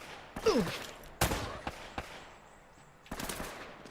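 Bursts of gunfire in the Uncharted video game, with sharp shots and short volleys spread across the moment, fairly close and punchy with nobody talking over them.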